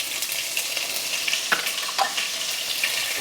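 Mustard seeds and green chili frying in hot oil for upma, a bright, even crackling sizzle close by with a few sharp pops and a light stir scraping through it.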